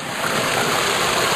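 Mountain stream in the Adirondacks on Hurricane Mountain, water flowing with a steady, broad rushing wash, close and even, with no voices.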